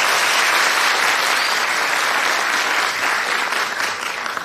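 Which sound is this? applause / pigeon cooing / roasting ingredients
applause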